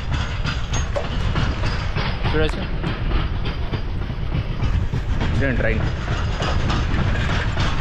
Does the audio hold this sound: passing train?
yes